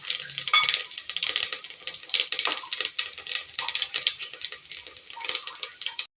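Fenugreek and cumin seeds frying in hot oil for a ladies finger kulambu, crackling and popping close up in dense, rapid ticking bursts that run continuously.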